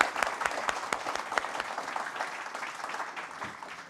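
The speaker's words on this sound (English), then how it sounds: "Please all give this nice panel a warm applause for sharing their knowledge." An audience applauds a conference panel on industrial innovation and decarbonization, with steady, close clapping that holds for about four seconds and thins slightly toward the end.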